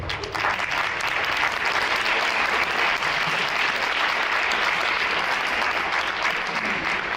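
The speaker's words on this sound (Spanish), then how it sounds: "a quien recibimos con un fuerte aplauso" Sustained audience applause at a university lecture in Mexico welcoming Dr. Rossana Reguillo, a dense, steady wash of many hands clapping at even loudness throughout, with no voices over it.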